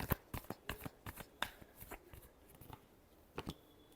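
Tarot cards being shuffled in rapid, uneven riffling bursts, quiet and close, with no voices.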